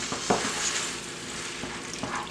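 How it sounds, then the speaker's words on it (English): Drained canned mixed vegetables stirred in a hot pan, a steady frying hiss broken by a few soft scrapes and knocks of the spoon, close and moderately loud. "Stir it up."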